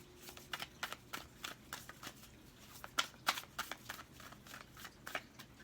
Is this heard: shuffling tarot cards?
yes